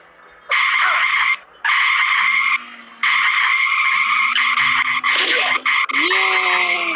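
Skidding car tyres in the horror game Ice Scream, several long squealing screeches in bursts separated by short gaps, loud and up close with a final rising skid.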